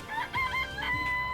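Chickens in the video game Danganronpa: Trigger Happy Havoc cluck and crow in a quick series of close, repeated calls, with no talking over them.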